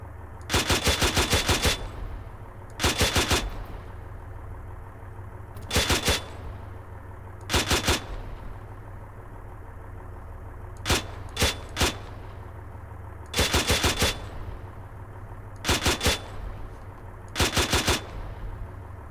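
Bursts of automatic gunfire crack out in the video game ARMA 3 Exile, with eight or so separate volleys of rapid shots spaced a couple of seconds apart, loud and sharp over a low steady hum.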